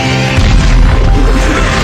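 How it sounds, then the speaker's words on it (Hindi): Black-powder arrows explode in a loud, deep movie blast that rumbles through the whole moment, dense and booming with no voices over it. "तीर में मौजूद काला पाउडर से जोर का धमाका हुआ"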